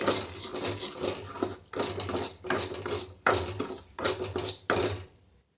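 Bombay rava (semolina) is roasted in a pan, heard as repeated scraping and rasping strokes of a spoon across the pan bottom in a steady rhythm, close and fairly loud, with no talk.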